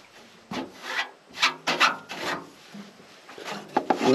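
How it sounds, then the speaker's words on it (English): A hand brush sweeps chaff and debris off a tractor with its engine shut off, in repeated scratchy rubbing strokes of uneven length, fairly close and alone. "So just shut the tractor off and just brush it right off."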